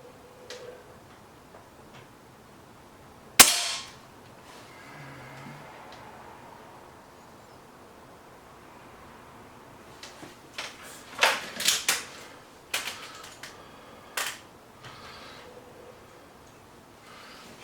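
An air rifle, a Webley VMX Quantum or BSA Lightning SE, firing pellets: one sharp crack early on, then a scattered cluster of clicks and mechanical handling noises later, close in a quiet setting.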